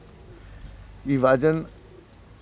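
Pigeons at a loft in Beniarbeig give a short, close burst of throaty cooing around the middle, with faint background noise before and after and a little speech.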